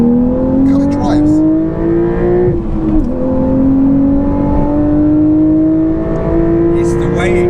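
A modified Porsche 911 992.2 engine revs hard while driving, a loud rising tone that dips at a gear change with a rev-matched blip, then climbs again, heard from inside the cabin under talk.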